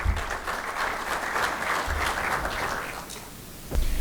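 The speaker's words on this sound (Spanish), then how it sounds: "Así que un aplauso para Santiago y ya va a arrancar su presentación." An audience at a conference forum on electric mobility in freight transport applauds a speaker, a steady burst of clapping that fades slightly before a final louder flurry near the end.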